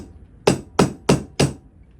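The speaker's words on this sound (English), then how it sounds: "we'll drive them pins on through there a little bit" Four sharp, evenly spaced hammer blows ring out close by as metal pins are driven through the front bolsters of a knife, with quiet gaps between strikes.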